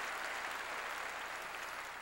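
Congregation clapping during a Korean church sermon, a steady dense wash of many hands held evenly for two seconds at a moderate distance, with no voices over it.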